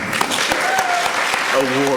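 Applause from a school board meeting audience for award recipients, clapping mixed with overlapping voices and a brief tonal sound near the end.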